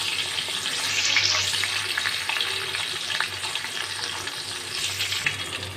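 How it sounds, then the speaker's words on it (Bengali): Fish pieces fry in a pan, a soft continuous sizzle with faint crackles and occasional small clinks, moderately near and without talk. "তাহলে এবার লাল লাল করে ভেজে নেব।"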